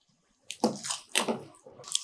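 Rava idli batter poured into ghee-greased idli plates, making a few soft wet glops and squishy slurps in quick bursts, close up with no talking.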